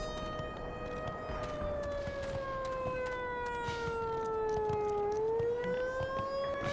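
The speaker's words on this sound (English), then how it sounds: "can that siren not just shut up?" In the video game Black Mesa, an alarm siren wails continuously, its tone slowly falling and then rising again, loud and unbroken over faint background noise.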